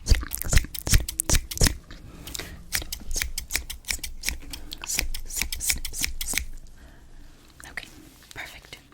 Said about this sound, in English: Then I will be using scissors to finish off that incision.